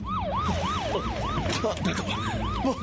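A police car siren wails loudly and nearby, sweeping up and down in quick repeated cycles over a steady background of traffic noise, with brief muffled sounds breaking in partway.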